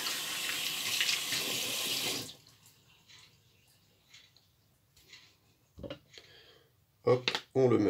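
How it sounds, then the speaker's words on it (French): Cold tap water runs loudly over soap and a shaving brush for about two seconds, then stops, followed by quieter handling knocks and a few sharp clatters. "Après ça, on rince un coup le savon à l'eau froide."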